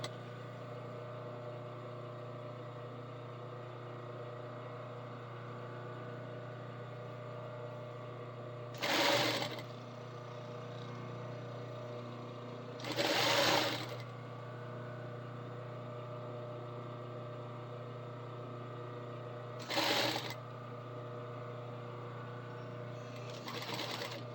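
Sewing machine stitching belt loops on fabric, a steady whirring drone running throughout, broken three times by brief louder bursts, and nobody speaking.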